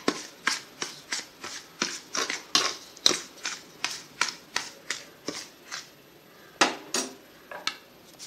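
Sugar is stirred into roasted semolina for rava laddu, a spoon scraping and clinking against a metal vessel in a steady series of sharp, regular strokes, close and clear with no talking.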